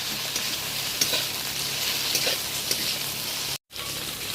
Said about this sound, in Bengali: এবার ঢ্যাঁড়সটা ফোড়নের সাথে ভালো করে নেড়ে চেড়ে নিলাম।